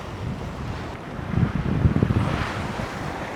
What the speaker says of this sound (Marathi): तर आम्ही आता सरजेकोट समुद्राजवळ थांबलो